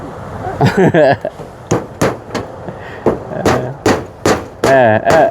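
Someone hammers something into place in a home vegetable garden. A string of sharp, evenly spaced strikes rings out close by, mixed with someone talking.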